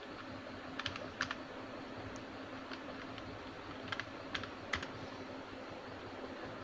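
Keystrokes on a computer keyboard as a channel name is typed, quiet sparse taps in small bursts over a steady low background hum, with no talking.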